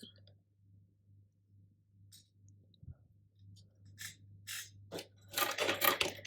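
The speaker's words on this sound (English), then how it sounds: "I'm just gonna cut off the fluff" Small scissors snip thread fluff on an overlock machine in a quiet room, a few faint crisp snips and scrapes over a low hum, followed by louder rustling handling near the end.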